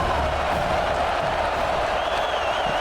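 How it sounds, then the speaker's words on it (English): A dense stadium crowd roars steadily at a college football game in EA Sports College Football, a continuous wash of cheering and whooping with a faint whistle near the end. "Third down and the crowd really getting into it."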